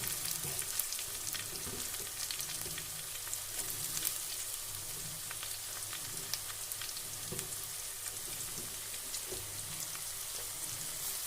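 Onion, garlic and chili frying in a pan, with a steady crackling sizzle that holds evenly throughout, close and alone, with occasional stirring.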